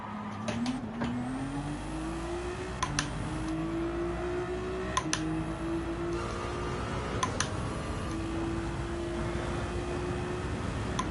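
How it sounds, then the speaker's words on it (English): A Ferrari 296 engine in Gran Turismo 7 revs and climbs in pitch through gears, a continuous mid-loud drone with brief sharp clicks scattered over it and no talking. "I just noticed the engine sound pitch on this 296 sound a little bit different to the last update."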